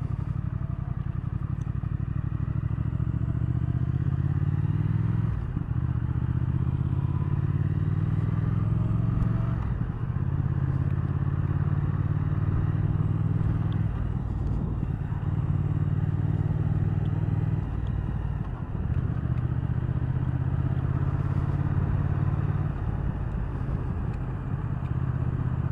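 A 2019 Triumph Thruxton R 1200 motorcycle engine runs steadily up close, a low rumbling idle with slow rises and falls in pitch and occasional mechanical clatter, continuous for the whole stretch with no talk.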